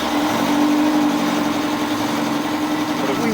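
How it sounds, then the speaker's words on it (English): A failing boat engine running while coming through a pass at night against the tide, a steady close drone with a held tonal whine, fairly loud and unbroken. "the engine is dying"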